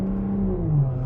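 A BMW 335i with the N55 engine and an M Performance exhaust on a stock downpipe idles with a steady, close, low rumble and slight tonal drift, heard alone.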